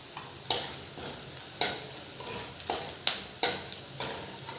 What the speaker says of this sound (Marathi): आपला कांदा सुद्धा शेकतोय